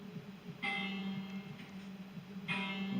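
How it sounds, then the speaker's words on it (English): Bells chime twice as a Doctor Who TARDIS build powers down in Minecraft, two clear ringing strikes over a low steady hum, with no talking. "Once again the bells chime to let you know you've switched off the power."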